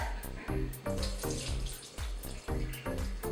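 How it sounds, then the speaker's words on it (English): Tap water pours over canned beans and corn in a colander, with rhythmic surges and splashes every half second or so as the beans are shaken under the stream. "Dump them all into this and rinse them off."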